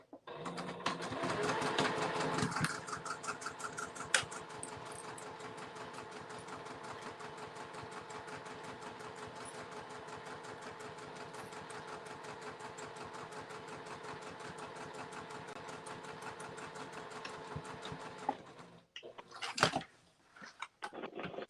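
A sewing machine stitching a fabric pouch runs in a steady, continuous whirring hum for a long stretch, close by and moderately loud, then stops and gives a brief burst near the end.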